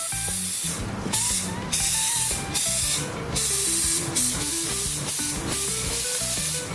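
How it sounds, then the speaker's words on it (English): Compressed air blown through a Mustang's fuel line, disconnected at the tank to clear out dirt: a loud, close hiss in several long bursts with short pauses between them, with a tonal whine running under the rushing air. "disconnect the fuel line at the tank and blow air through the whole thing"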